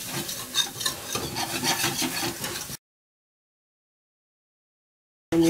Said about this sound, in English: Slowly and stir as you add.